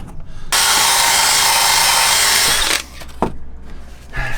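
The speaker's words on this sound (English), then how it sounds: "just kind of basically wire wheel the rust out" A power wire wheel scours surface rust from metal in one loud, continuous grinding burst of about two seconds, then winds down, followed by a few clanks and handling noises.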